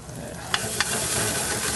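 Fresh garlic sizzles in a hot pan with a steady, fairly loud crackle, broken by two quick utensil clicks partway through; no one speaks.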